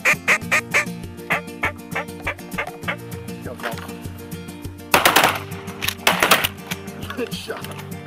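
A few sharp shotgun blasts from a duck hunt ring out near the middle, amid rhythmic calling and honking from birds close by.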